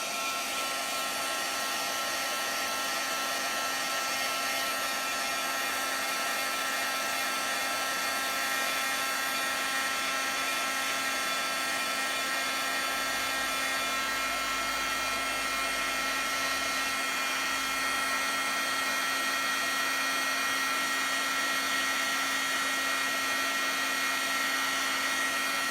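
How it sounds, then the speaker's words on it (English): A heat embossing tool blows hot air onto a card in a steady, whiny hairdryer-like whir with a constant hum, running without a break and up close for the whole stretch. "Let's see, I need to heat emboss this first."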